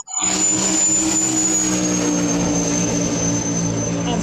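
A 106 mm turbocharger spools up with a loud, steady, jet-like roar and a sustained high-pitched whine that holds continuously from start to finish, close to the listener.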